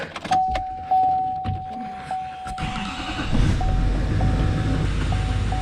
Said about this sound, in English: Turn on the truck.